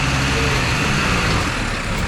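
A heavy 4WD climbing up out of the Wenlock River on Cape York's Frenchmans Track, its engine a loud, steady, close rumble under strain with broadband noise throughout.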